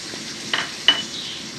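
Chopped tomatoes going into browned onions in a hot pan, giving a soft sizzle with two brief scraping, stirring bursts and faint clinks of utensils against the pan, close and quiet with no talk.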